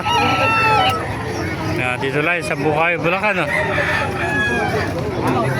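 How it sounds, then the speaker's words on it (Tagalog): A rooster crows loudly and close by at a poultry market in Bocaue, Bulacan, its long rising call standing out over continuous talking and background chatter. "Ganda ng mga manok dito."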